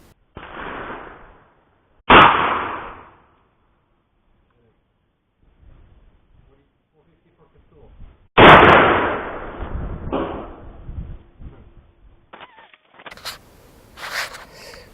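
A 454 Casull revolver fires at a bulletproof jacket, with two sharp, loud gunshot cracks several seconds apart, each trailing off in echoing decay, plus scattered quieter knocks and handling noises between them.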